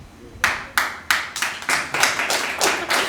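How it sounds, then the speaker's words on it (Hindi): Audience at a Hindi poetry open mic clapping in a series of sharp, evenly spaced bursts, each fading quickly before the next, close and fairly loud with no talking. "और ताली जो है आप लोग प्लीज़ कम मत करिएगा।"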